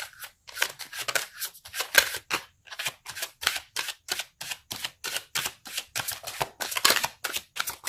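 Tarot cards shuffled and handled for a love reading, giving a run of quick crisp riffling bursts and snaps in a steady irregular rhythm, close and fairly loud, with no talking.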